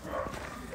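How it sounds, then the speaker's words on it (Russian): A dog that barks day and night is heard from a neighbouring yard in a brief, fairly distant bark set against background noise. "Ну, вы слышали, да, как она лает?"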